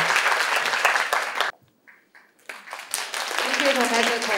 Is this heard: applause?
yes